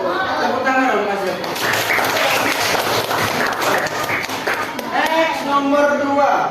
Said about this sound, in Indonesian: Tepuk tangan dong kasih.